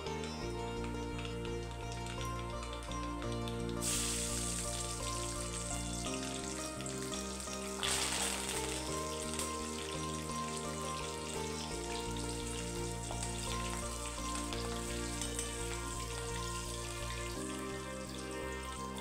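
Green chillies and curry leaves hit hot oil already holding mustard and cumin seeds, giving a loud, steady sizzle and crackle that lasts throughout, with a brief burst of spattering midway and no talk.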